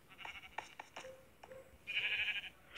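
Sheep bleat in a building video game: a handful of short, fairly quiet bleats in an uneven rhythm, followed by a brighter sustained game tone near the end.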